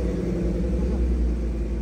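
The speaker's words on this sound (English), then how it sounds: "let's give it a couple revs." A supercharged 2015 Mustang GT Premium convertible with a Whipple Stage 2 supercharger idles with a deep, steady, loud engine rumble close by, a slight swell hinting at a light rev.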